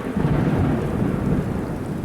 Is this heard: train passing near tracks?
no